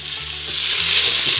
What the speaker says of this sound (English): Let's get the pressure cooker on and we can start frying off the meat.